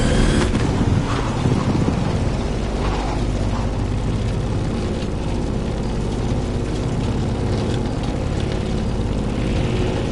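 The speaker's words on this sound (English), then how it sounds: "In the cockpit of a stunning Grumman F8F Bearcat, or simply the Bear." Propeller engine of a Grumman F8F Bearcat flying in The Crew Motorfest racing game, a loud, constant droning roar with a rumbling low end that sustains throughout.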